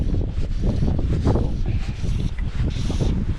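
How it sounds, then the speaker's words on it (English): Southwest wind gusting across Lough Conn, a loud, rough, continuous buffeting rumble against the microphone with faint rustle and water movement, no voices. "Southwest wind today,"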